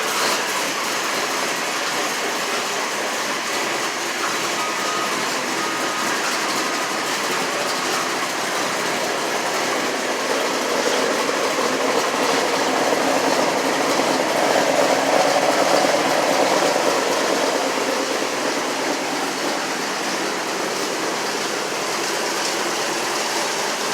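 A rebuilt port-injected 350 small-block V8 in a 1993 Chevy C1500 pickup runs in a quiet exhaust mode, giving a steady, even, muffled hum that holds without change throughout.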